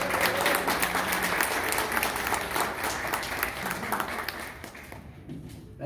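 An indoor audience at a Project SEARCH intern graduation applauds steadily as a speaker is welcomed, a dense, sustained wash of clapping that carries near and loud throughout before thinning out at the very end.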